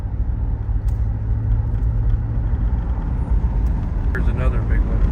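A car drives along rough country roads in rural Ohio past farmland, its low engine and road rumble steady and close, with a brief higher sound near the end.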